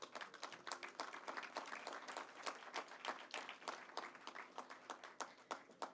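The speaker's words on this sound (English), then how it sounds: "Clap her for me now, man" An outdoor crowd at a ribbon-cutting ceremony for the Harmony Cove development in Duncans, Trelawny, claps for a dub poet about to perform, a soft, distant, continuous patter of many hands with no talking.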